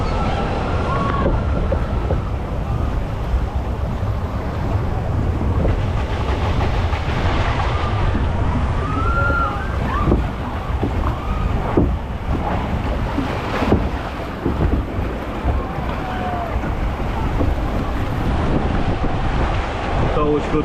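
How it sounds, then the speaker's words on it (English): Water rushes and sloshes around a log flume ride at PortAventura, a loud continuous roar of churning water and wind buffeting the microphone, with faint voices now and then. "Always good for a soak in this log flume, always."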